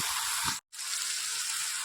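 Chopped onions sautéing in a pan over a high gas flame, giving a steady, bright sizzling hiss that breaks off for a split second and then continues, close and without talk.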